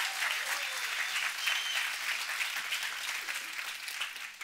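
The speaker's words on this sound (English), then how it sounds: "Give him a greater hand clap of praise." A church congregation claps in praise, sustained, dense and fairly loud applause filling the room without pause.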